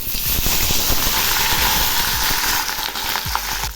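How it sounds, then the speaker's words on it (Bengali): Cauliflower florets frying in hot oil seasoned with cumin seeds and bay leaf, a steady loud sizzle with scattered crackles and stirring clatter running through, no talk. "এবার আমি কপিগুলো ভেজে নিচ্ছি"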